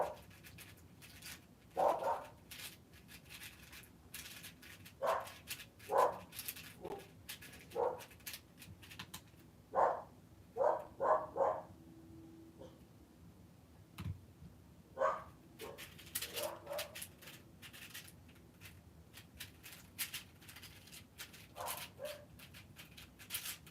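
Dogs bark and yip in scattered bursts over a long stretch, some sharp barks close together and others spread out, with quieter whimpering gaps between.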